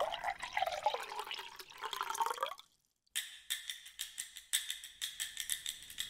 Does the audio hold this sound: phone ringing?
no